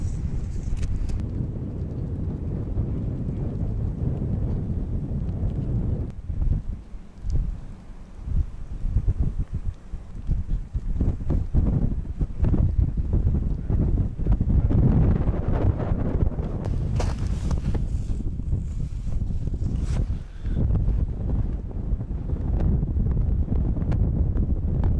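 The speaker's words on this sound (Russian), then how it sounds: "Неожиданно сильный ветер, поэтому снимать сложно." Strong wind buffets the microphone outdoors on a fishing trip, a loud continuous rumbling roar with gusty bursts and crackling spikes throughout.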